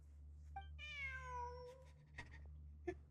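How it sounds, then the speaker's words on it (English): A cat in Genshin Impact lets out one long, clear, rising-then-falling meow, with a couple of soft clicks and faint taps around it over a steady low hum. "Look, a cat."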